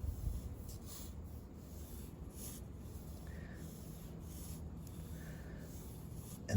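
Pencil drawing lines on paper for a cylinder sketch, a soft continuous scratching rub that is steady and close, with faint background hiss.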